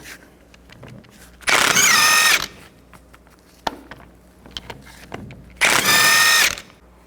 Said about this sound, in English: Take these bolts out, use a 19mm socket.